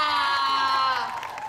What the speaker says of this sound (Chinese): 大家先给我们的经纪人掌声鼓励一下